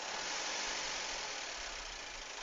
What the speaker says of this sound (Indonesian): Ini kalau ngecek mobil itu digas sedikit aja, jangan banyak-banyak, dikit.